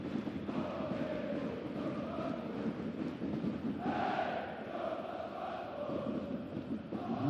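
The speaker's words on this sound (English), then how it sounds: "Massive crowd at it." A massive stadium crowd at a German third-division football match, Jahn Regensburg versus Energie Cottbus: a continuous distant roar of voices that swells in the middle and holds steady to the end.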